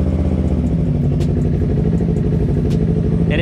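Big motorcycle idling and creeping forward as the clutch is let out, a loud steady engine chug with light mechanical clatter and a couple of faint higher ticks.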